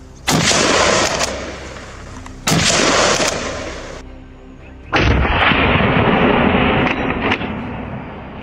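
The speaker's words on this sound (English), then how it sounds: "It took nearly a full minute of non-stop firing before just a few finally dropped in the cloud of dust and smoke." Three heavy blasts of gunfire during a wild boar hunt, spaced a couple of seconds apart, loud and near, each followed by a long, rumbling decay.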